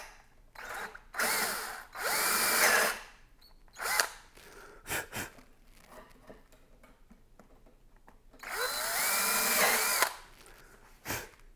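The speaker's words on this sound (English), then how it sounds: "And drill that down enough such that your peg is going to fit in there nicely" A power drill whirs in several bursts, boring a peg hole into wood during a chair repair, with gaps of quiet between runs; close and fairly loud.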